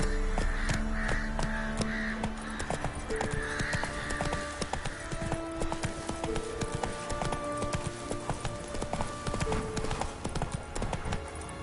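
Roach, the horse in The Witcher III video game, gallops in a steady clip-clop rhythm of hooves, loud and close, with crows cawing and game music playing underneath.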